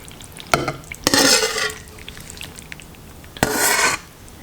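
Beef paprika soup poured over ramen noodles in a bowl, giving two bursts of splashing liquid, a short one then a longer pour, with a final splash after a quiet pause, close by and fairly loud.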